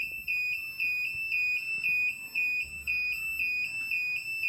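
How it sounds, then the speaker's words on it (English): A Kombora III security system siren set off by motion sensors, a loud, shrill electronic tone pulsing in a fast, regular on-off pattern, close and continuous with no voices. "the siren should stop in about 1 minute"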